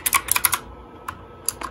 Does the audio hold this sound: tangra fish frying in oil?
no